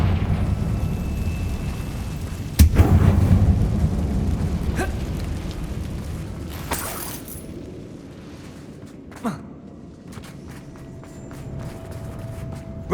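Confringo spell explosion in Hogwarts Legacy, a sudden sharp blast followed by a rumbling decay over a low ambient drone, with a few smaller pops trailing afterward.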